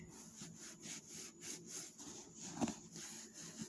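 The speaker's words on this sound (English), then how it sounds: "I'm just rubbing that in there" Conditioner is rubbed into cowboy boots with rhythmic back-and-forth strokes, a soft steady swishing repeated about every quarter second, close but faint, with no talking.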